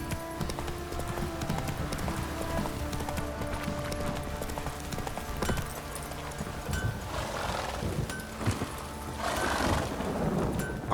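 Roach the horse's hooves clip-clopping steadily in The Witcher 3: Wild Hunt, a continuous rhythmic trot up close with ambient game sound and a faint whinny-like layer underneath.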